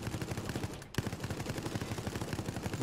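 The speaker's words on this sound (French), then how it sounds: "on a mis un fusil autonome sur une caméra et on a utilisé un fusil sur un autre" Rifle gunfire in the video game Resident Evil Resistance, a rapid, steady stream of automatic shots with a brief gap near the start, continuous and fairly loud throughout.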